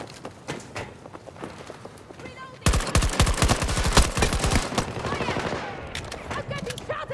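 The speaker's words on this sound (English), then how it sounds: "I'm getting shot at!" Rapid automatic gunfire in the Hazard Zone shooter rattles out in a dense, loud burst lasting about two seconds, framed by softer footsteps and scattered shots before and after.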